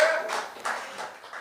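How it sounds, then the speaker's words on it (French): Audience in a comedy-show hall applauding, a short burst of claps that quickly fades, moderately loud and alone. "Par applaudissement, est-ce qu'il y a des parents ici dans la salle?"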